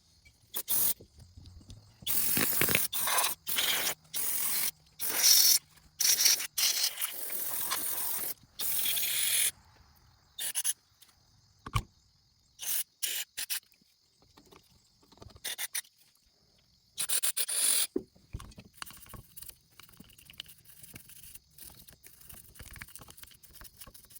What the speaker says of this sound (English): You definitely want to use a soft brush when you're doing this